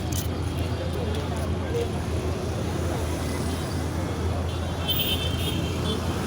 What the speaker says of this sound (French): ici, c'est là où vraiment il y a l'épicentre de l'embouteillage.